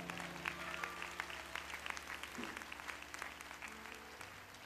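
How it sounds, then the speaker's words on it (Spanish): A church congregation breaks into applause, a fairly quiet, even spread of many hands clapping over a low background hum with faint voices mixed in. "Denle un aplauso al Señor."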